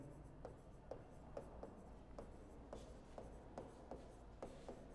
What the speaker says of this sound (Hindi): उसके लिए हम इस तरीके से लिखेंगे